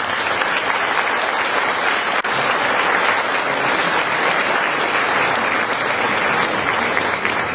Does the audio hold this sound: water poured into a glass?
no